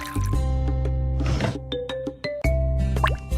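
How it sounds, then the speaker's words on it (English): Chocolate syrup pours in a sweet shop game, squishy, liquid fill and drip effects sounding over a looping tonal game melody, with small plops and clinks scattered through. "Chocolate syrup."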